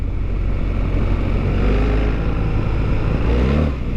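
A BMW R1300GS Trophy motorcycle rides on gravel, its engine droning loud and steady under heavy rumble and wind, with no speech.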